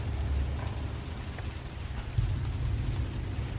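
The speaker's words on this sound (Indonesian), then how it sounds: "hujan sudah mulai turun cukup deras." Heavy rain falling after dusk around a house, a steady low rushing patter with a dull thump partway through, continuous and fairly close with no voices.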